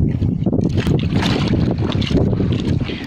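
Strong wind roars steadily across the microphone on a boat, a continuous rough rumble with gusty swells and no voices.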